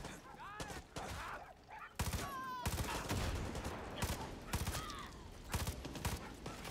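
Rapid bursts of gunfire from the video game Far Cry 6 crackle at middling distance, with a sharp high whistle or ricochet between volleys and voices talking over parts of it.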